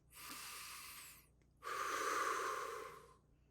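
A person takes a deep breath during a mindfulness exercise: a long audible inhale through the nose, a short pause, then a longer, fuller exhale, close and quiet with no talking.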